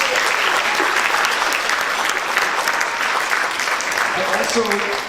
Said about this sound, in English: give yourselves a round of applause right now, please